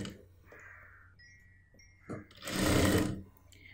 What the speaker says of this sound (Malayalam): ഇനി നമുക്ക് ഈ ഭാഗത്തു നിന്ന് സ്റ്റിച്ച് ചെയ്യാം.